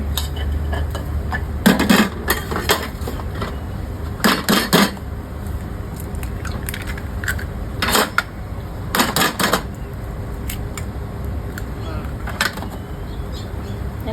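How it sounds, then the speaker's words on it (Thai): Sharp clattering knocks as eggs are cracked into a frying pan with oil, a few brief clusters spaced apart over steady kitchen background noise with faint talk. "วางใส่น้ำมันแล้วมาตอกไข่กัน"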